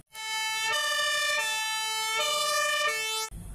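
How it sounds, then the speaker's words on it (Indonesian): A toy fire truck siren wails in a clear electronic two-tone pattern, alternating pitch several times at close range before cutting off abruptly with a clunk. "Ini adalah truk damkar."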